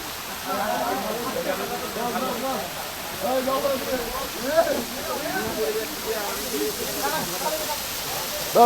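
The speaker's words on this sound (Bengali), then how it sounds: "জলটা পড়ছে নিচে, জানেন তো?" Water pours steadily down a waterfall on an excursion near Jayanti and Buxa, a constant broadband rush with people talking over it throughout.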